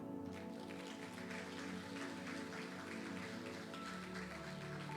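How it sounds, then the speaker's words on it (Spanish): A church congregation applauds through a continuous, dense patter of clapping that holds steady throughout, with no voices rising above it. "Dale un aplauso al Señor."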